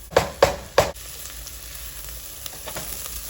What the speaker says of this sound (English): Onions and our peppers in here. And we'll get them coated in that butter. And I just want to saute them for a little bit.